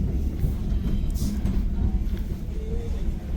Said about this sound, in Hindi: तो दोस्तों ये पहुँच गए जी शोले रेलवे स्टेशन पे।